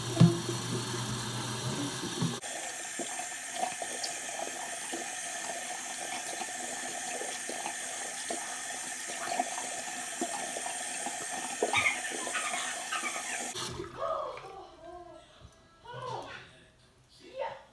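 Water runs steadily from a bathroom faucet into the sink during tooth brushing, a continuous hiss lasting most of the stretch before it stops and a few quiet handling sounds follow.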